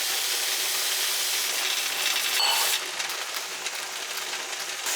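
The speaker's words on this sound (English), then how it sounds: "there's a lot of steam coming out of the pot" Steam vents hard from a pressure canner pot holding chicken gravy in jars, a loud continuous broadband hiss that eases slightly partway through.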